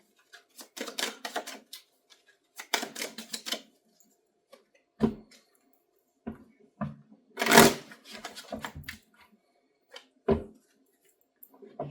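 A tarot deck shuffled by hand nearby, with bursts of riffling and soft card slaps and clicks coming in irregular clusters separated by short quiet gaps, no one speaking.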